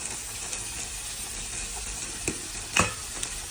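A spoon works through fried potatoes and corned beef in a pan, giving a quiet steady sizzle broken by a few scraping and tapping strokes, the loudest clack late on, close up.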